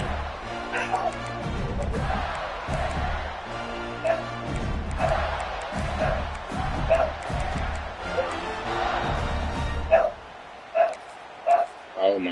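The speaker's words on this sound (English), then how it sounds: "Oh my God, this damn dog." A dog in the room barks repeatedly, several sharp yips standing out near the end, over continuous talk and the crowd and commentary of an NCAA 26 football video game.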